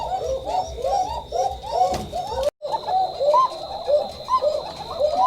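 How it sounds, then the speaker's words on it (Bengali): Koka pigeons on a pigeon farm coo steadily in repeated, overlapping rolling calls, close and fairly loud, with a brief dropout midway and no talking. "সেই কবুতরগুলোর ডাক আমাকে আকৃষ্ট করে আর এগুলো ডাকটা একটু আলাদা"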